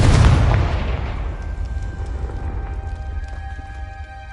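A Confringo fire spell detonates in Hogwarts Legacy with a loud, close blast at the start, then a long rumbling decay under faint sustained tones and scattered crackles.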